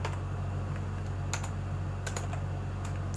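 Computer keyboard keys tapped to type a search query, a run of quick, irregular clicks close to the mic over a steady low hum, with no talking.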